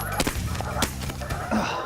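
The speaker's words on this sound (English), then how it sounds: "All the geese are up over here." Snow geese honk overhead during a waterfowl hunt, a busy overlapping chorus of short, nasal calls with some sharp bursts, moderately distant and fairly faint against a rushing outdoor background.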